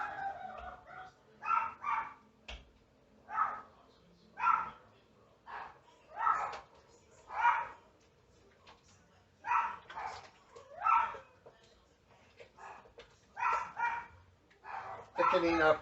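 A dog at home barks repeatedly at neighboring dogs, a steady run of a dozen or so loud, close barks spaced about a second apart over quiet background.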